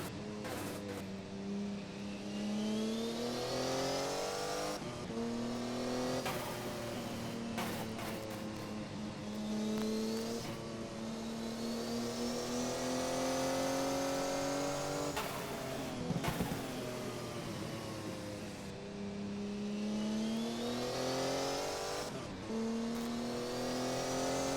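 Race cars in the Castrol 1000 endurance race, with engines repeatedly rising in pitch through the gears and then dropping off, loud and continuous as cars pass and accelerate, broken by a few sharp transient bursts.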